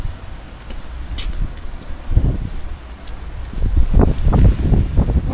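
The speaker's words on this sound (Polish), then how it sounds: "gdyby nie ten wiatr" Gusty wind buffets the microphone in low rumbling bursts that grow stronger toward the end, outdoors with no talking.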